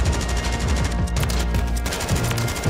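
Rapid automatic gunfire from a Bruen MK9 light machine gun in Warzone 3, loud and continuous bursts of dense, punchy shots with a heavy low thump, played up close without speech.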